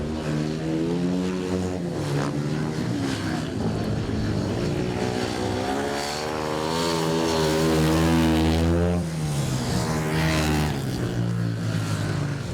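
Racing motorcycles power around the Sitra circuit at Iwade, their engines a loud, sustained droning whine that climbs and falls in pitch, swelling nearest in the middle before easing off, with no talking.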